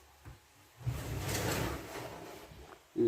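A large wooden drawer in a bed frame slides open, giving a rumbling glide of about two seconds that ends in a knock.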